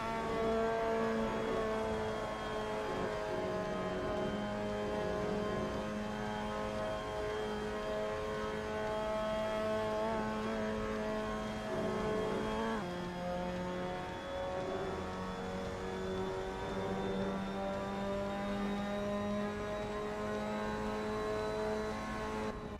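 Mazda MX-5 Cup race car engine held at full throttle in fourth gear on an uphill stretch of the Sachsenring in Assetto Corsa, a steady loud rising drone with a brief gear-change dip midway, no voices.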